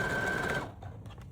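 A sewing machine runs steadily around the perimeter of a baby blanket with a quarter-inch seam allowance, a close, even whir for about half a second before it stops and a few faint clicks follow.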